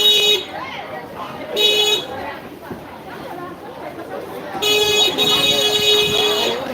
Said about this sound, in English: guy's just honking at everybody.